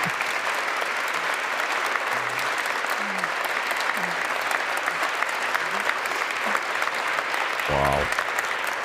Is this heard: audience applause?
yes